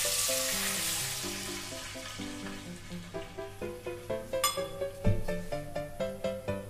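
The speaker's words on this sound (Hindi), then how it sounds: "1 कप पानी डाल देंगे।" A cup of water hits a hot pan for garlic potato bites and bursts into a loud hiss that fades, followed by rhythmic bubbling and stirring sounds, with no voices.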